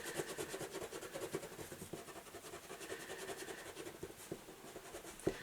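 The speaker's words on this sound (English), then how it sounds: "I need to rub out that wall line that's going through my bed" Soft, steady rubbing of an eraser scrubbing out a pencil line on a paper drawing of a bedroom, a quiet back-and-forth scratching with rhythmic strokes and no talk.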